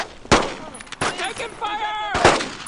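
Gunfire in the World War II shooter Brothers In Arms: Road To Hill 30, sharp loud shots cracking out at irregular intervals, with shouted voices between them.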